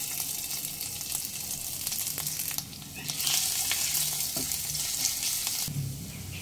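Torn bay leaf, whole cumin seeds, asafoetida and grated ginger sizzle in hot oil, a steady close crackle that swells briefly midway and then settles, with no voices.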